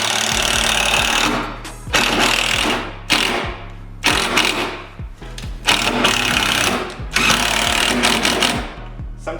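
A power drill drives 2.5-inch screws into wooden raised garden bed boards, giving loud whirring bursts of a second or two separated by brief pauses, several screws in a row, close to the listener.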